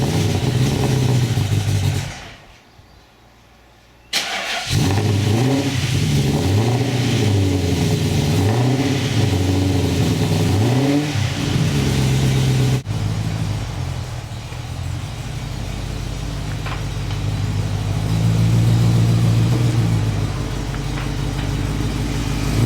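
A 1978 Aston Martin V8 Vantage engine cranks and fires, then revs in repeated rising and falling blips before settling into a loud, rumbling idle that swells again near the end, heard close up with no talking.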